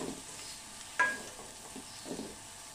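Broccoli is tipped into chicken frying in a pan, giving a soft sizzle with a sharp clink of utensil against the pan and a few brief stirring scrapes, fairly quiet.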